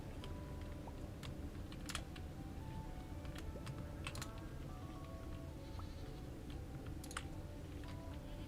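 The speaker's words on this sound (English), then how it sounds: "Noisy goats, bro." Goats bleating in Stardew Valley, a few short calls scattered over constant close keyboard typing and a steady game background.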